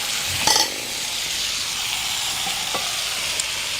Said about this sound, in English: And then we're gonna give it a stir.